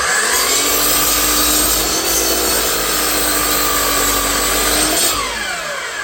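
A power saw cutting a 10-degree bevel through wood, a loud, continuous, close whining buzz with a steady grinding rasp that eases off near the end.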